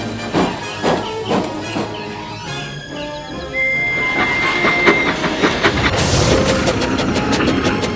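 Breakdown train rolling along the line in the Trainz railway simulator, a steady clickety-clack of wheels over rail joints with hissing steam and a sustained whistle-like tone, loud and continuous with no talk.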